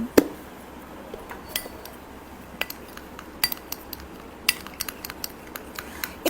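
A spoon scrapes and clinks against a bowl while flour and sour yogurt are blended, giving sharp scattered taps over a soft, quiet mixing rustle.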